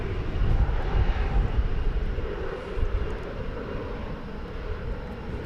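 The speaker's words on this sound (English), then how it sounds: "It is flight 1209, a 737-800 going to Albuquerque, New Mexico." An American Airlines Boeing 737-800 jet at DFW Airport gives a loud, steady engine roar with a broad rumble that holds evenly throughout, heard alone with no voices.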